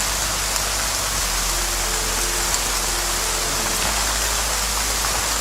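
Steady rain falls through a dark horror-thriller scene, a dense continuous hiss with a low rumbling bed underneath, loud and even throughout with no voices.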